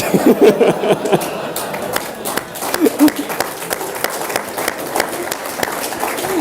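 A lecture audience claps steadily for several seconds, a dense patter of hands with a few louder bursts and no talk over it.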